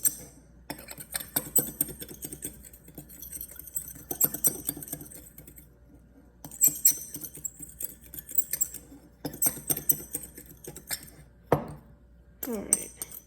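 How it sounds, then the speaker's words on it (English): A fork mixing homemade baking powder ingredients in a cereal bowl gives a series of light, close scrapes and clinks, with pauses between bursts of stirring and no talk over it. "we can take a fork, or if you want, you can use a whisk. And we're going to mix that together into a cereal bowl."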